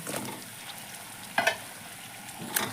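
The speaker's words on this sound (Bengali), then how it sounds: "মাছের মুড়োগুলো দিয়ে আমি একটু কষে নিচ্ছি।" Hilsa fish heads frying in a spice paste in a pan, a steady low sizzle with a couple of brief louder crackles and stirring scrapes.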